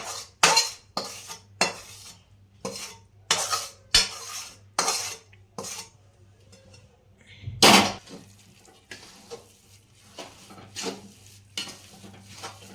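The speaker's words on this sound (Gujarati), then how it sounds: "હવે બધું મિક્સ કરી દઈએ" A spoon repeatedly scrapes and knocks against a pot while roasted flour, poppy seeds and other gundar pak ingredients are stirred together, giving a steady series of close, sharp clinks and scrapes with one louder clatter midway.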